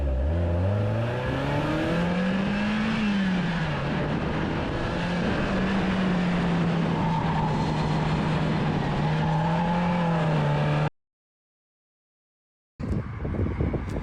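A Mazda Miata roars as the clutch is dumped, its engine note climbing and holding loud and close for about ten seconds with wind rush, then cutting to silence before noise returns briefly.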